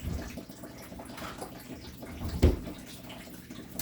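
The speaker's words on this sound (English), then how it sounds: "I'm using my tap hot water" Hot tap water runs from a kitchen faucet into a measuring cup, a soft, steady watery hiss close by with one brief louder splash partway through.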